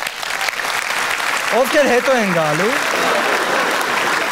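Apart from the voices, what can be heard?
audience applause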